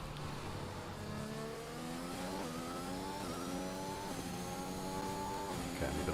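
A Red Bull Formula 1 car in the F1 2021 racing game at Austria, its high engine note rising and shifting through the gears as it crosses the start-finish line, steady and moderately loud.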